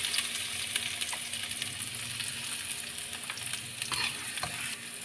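Garlic and onions sautéing in a pan for sotanghon, a loud continuous sizzle with utensil scrapes and taps from stirring, no voices.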